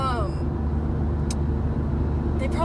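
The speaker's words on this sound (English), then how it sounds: "They definitely heard that semi." A semi truck drives past on Interstate 5 in a road scene, its engine drone and tyre roar filling the space as steady, fairly loud traffic noise, with a brief whine near the start.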